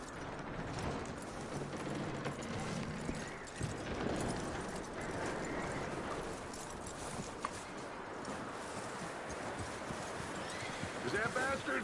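Horse hooves clip-clopping steadily and a loud neigh in Red Dead Redemption 2, a Western video game set outdoors, with continuous game ambience and someone speaking over the sound.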